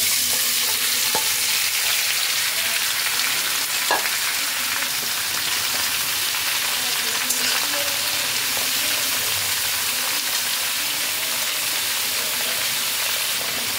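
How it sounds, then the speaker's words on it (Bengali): Kachki fish, coated in spices, frying in hot oil with garlic, giving a steady close broadband sizzle throughout with occasional scraping clicks of stirring. "এবার আমি ওই তেলের মধ্যে দিয়ে দিচ্ছি মেখে রাখা কাচকি মাছটা"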